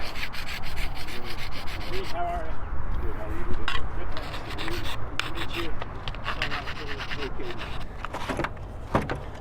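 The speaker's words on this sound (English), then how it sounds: "Hit it with the file." Steady scraping and rasping of a file worked back and forth across a wooden tail wing, close by, with faint voices now and then in the background.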